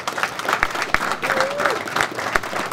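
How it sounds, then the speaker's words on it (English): Audience applause at an MMA press conference, a dense crowd clapping with sharper individual claps standing out, fairly loud and continuous, with a faint voice underneath. "Give him a round of applause."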